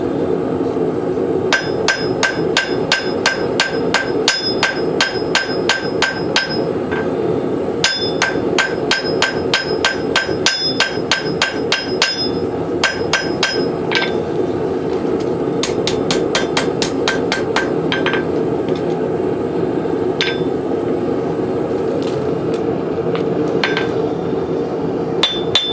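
A hammer forges a bevel on a hot woodcraft tool at the anvil, ringing metallic strikes in rapid bursts of a dozen or so with short pauses between, loud and close, with no talking.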